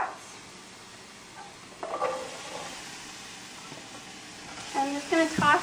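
Brussels sprouts frying in olive oil with garlic, a steady low sizzle running throughout, with brief clinks of a utensil stirring the pan and a voice speaking near the end.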